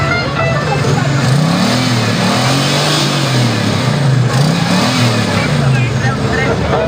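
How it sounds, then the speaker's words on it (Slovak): A big American veteran car engine revs loudly and steadily, its deep rumble rising and falling in pitch at a classic car tour event, continuous and close throughout. "Objem nenahradíš, na tomto motore to proste počujete."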